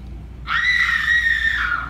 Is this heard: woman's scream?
yes